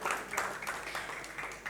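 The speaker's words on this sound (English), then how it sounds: "An artist applauding for the other artist right there" An audience applauds at a celebration and media unveiling for an OTT streaming app launch, a soft, steady patter of many hands clapping at moderate distance.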